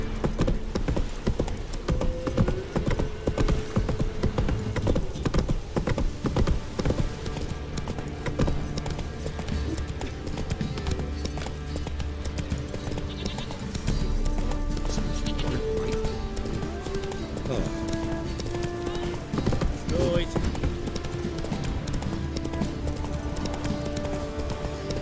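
A horse gallops at a steady clip-clop in The Witcher 3, hooves thudding continuously and close over a layer of game music and ambience, with a brief whinny possible.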